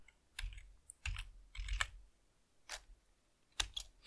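Keys on a Mac keyboard are tapped to type a terminal command: a handful of sparse, quiet clicks and taps in an otherwise quiet room.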